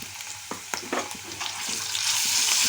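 Curry leaves and ginger paste fry in hot oil, a close sizzling crackle with sharp pops and spatters early on that swells into a louder steady hiss toward the end.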